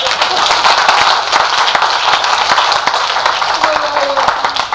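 Audience applause at a Hindi poetry recital, a steady wash of clapping from a large crowd throughout, moderately loud, with a few sharper claps standing out near the front.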